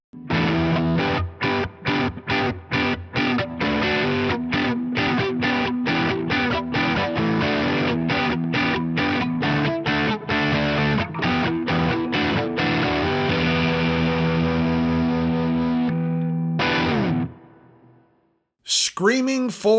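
Electric guitar through a Fender Tone Master Pro on its Princely Brown Stereo preset, playing a loud, driven rhythmic chugging riff of rapid repeated chords that cuts off near the end, followed by a brief burst of talk.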